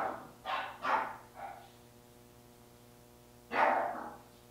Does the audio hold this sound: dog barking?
yes